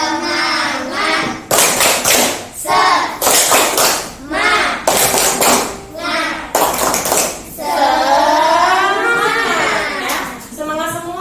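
A class of children claps a rhythmic 'tepuk semangat' chant in bursts of patterned claps, while a teacher's and children's voices speak and chant between the bursts.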